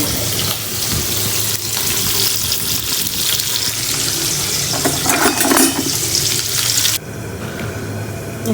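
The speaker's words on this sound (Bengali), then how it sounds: "মাছ ভাজা হয়ে গেছে" Loud, continuous hissing sizzle of small kachki fish frying in oil, with a watery, splashing texture that drops off abruptly near the end.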